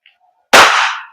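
A WE Glock 17 Gen 5 airsoft gas blowback pistol fires a single sharp, loud shot with a short decaying tail after a brief faint click, close by and with no talk.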